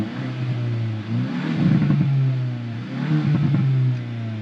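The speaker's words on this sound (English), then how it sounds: "you got pops and bangs" A Hyundai i20N in N mode revs on its original exhaust, a loud engine rising and falling twice with crackling pops and bangs on the overrun, no talk.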